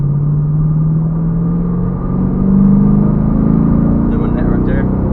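A six-speed Chevrolet Camaro pulls onto the interstate, its engine droning steadily and rising in pitch as it accelerates, with a low continuous rumble and road noise throughout.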